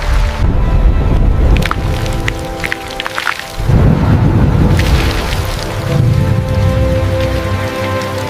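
Heavy rain pours down in a thunderstorm, a loud continuous hiss of drops hitting the ground with deep rumbling thunder rolling underneath, briefly easing before surging again.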